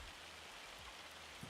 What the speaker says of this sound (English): Oh, hail. It's hail in chat. That's what that's supposed to be,